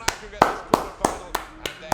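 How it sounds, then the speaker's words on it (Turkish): A single person claps by hand in a steady, slightly uneven rhythm, seven sharp, close claps spaced about a third of a second apart, with a little room echo after each one. "Frey'i alkışlıyoruz."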